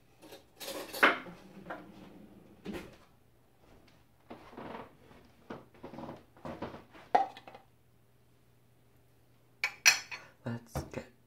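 A cup and spoon are tapped in a polyrhythm, with clusters of bright clinks and knocks separated by quiet gaps, close and fairly faint over a low steady hum.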